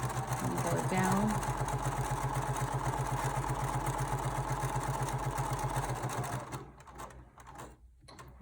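A sewing machine runs steadily while stitching a fabric face mask, a fast even mechanical chatter for about six seconds that then stops, leaving quieter handling noise.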